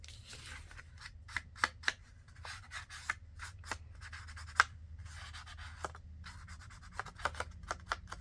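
Scissors snip paper for a handmade file folder card in a quiet room, a series of short, crisp cuts at an irregular pace, close and fairly soft.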